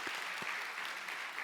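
A congregation gives sustained, even applause at an ordination service, a dense wash of many hands clapping steadily and close throughout with no talk over it.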